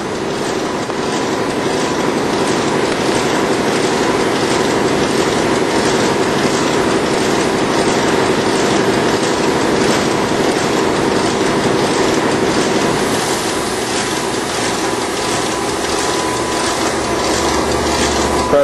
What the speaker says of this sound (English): Switch it up to continuous. Very smooth running press.